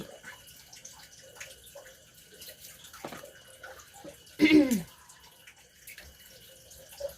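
Kitchen tap water running over young eggplants being washed, faint trickling and drips with handling clatter, then a louder burst of splashing water near the middle before easing back to soft dripping.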